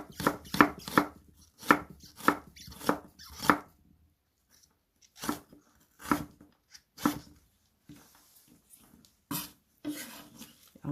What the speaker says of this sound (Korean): 근데 양파는 조금 잘게 다질 겁니다